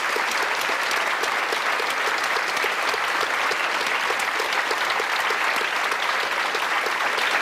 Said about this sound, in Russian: Нам нужны аплодисменты